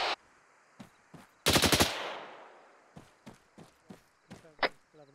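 Gunfire in the military video game ArmA 3, with a sharp rapid machine-gun burst followed by scattered single shots at varying distance, some close and crisp, others faint, over a quiet background.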